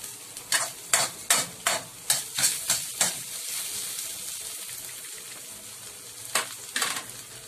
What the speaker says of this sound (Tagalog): Then halo po tayo ng konting salt para may lasa po ang ating veggies and egg.